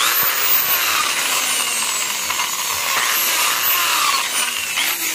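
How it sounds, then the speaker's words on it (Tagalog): A power drill bores a hole at a marked spot for a door flush bolt, giving a continuous, loud high whine that holds steady with slight pitch wavers. "bubutasan natin yung marking."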